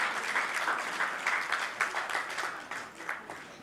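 Audience applause at a school prize ceremony in Ouakam, Senegal, a burst of steady clapping that tapers off over a few seconds.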